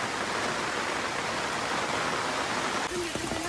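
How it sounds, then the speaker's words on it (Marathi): Heavy monsoon rain in rural Konkan pours in a dense, continuous roar close around, and a voice briefly speaks over it near the end. "पावसाने खूप जोर पकडलेला"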